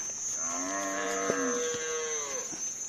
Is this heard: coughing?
no